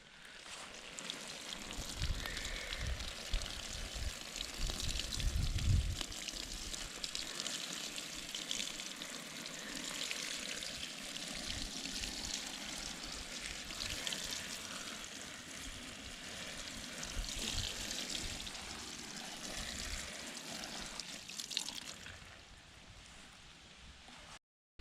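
Water pours onto garden beets in a steady, close, hissing spray with a few louder splashy bursts, then fades near the end.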